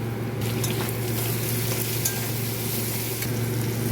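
Potatoes, onion, ginger-garlic paste, salt, turmeric, chilli powder and chopped tomato frying together for ghugni, giving a dense continuous sizzle with a few faint stirring clicks, close and even throughout.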